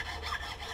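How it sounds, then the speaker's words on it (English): A metal file rubs across guitar frets during fret levelling, giving one short, soft rasping stroke heard close up. "we just take that down this file"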